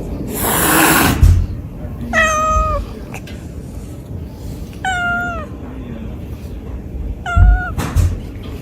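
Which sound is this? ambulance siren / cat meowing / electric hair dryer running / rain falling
cat meowing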